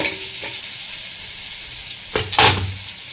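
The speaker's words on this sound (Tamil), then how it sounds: "இந்த டைமில் வந்துட்டு க்ரீன் சில்லி சேர்த்துக்கிறேன்" Green chillies dropped into melted butter in a pan, a steady soft frying hiss with a couple of sharp clatters near the end as they hit the fat and a louder sizzle swells.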